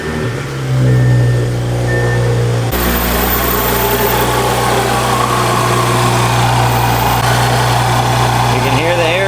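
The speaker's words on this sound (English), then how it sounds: "Let me give you a little teaser of what the turbo sounds like sitting here in the garage." An Audi S4's turbocharged engine idles steadily in a garage, a constant low drone with a brief louder swell near the start and a sharp change partway through; a person speaks over the running engine.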